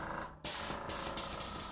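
An airbrush spraying water, a sharp, close hiss that bursts on loudly and holds steadily with slight pulsing.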